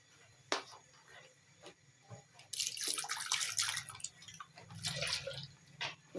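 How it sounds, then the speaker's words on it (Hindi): Water poured into a jug while cooking sarson ka saag, starting with a few faint drips and taps, then a soft splashing pour that runs a few seconds at low volume. "तो पानी डाला मैंने जग में"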